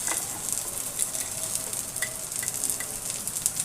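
Drumstick (sajna data) curry sizzling in a pan as turmeric is added, with a steady close crackle broken by small spitting pops and no voices.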